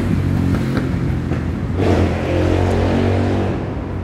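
Busy street traffic in Casablanca, with motorbikes and cars passing close by, engines rising and revving in a loud, continuous rush.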